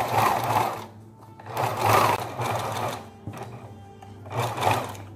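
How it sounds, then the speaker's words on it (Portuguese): A Singer home sewing machine stitches straight along a towel edged with broderie anglaise, a close whirring run in three bursts separated by short pauses. "Essa máquina que eu estou costurando é uma Singer,"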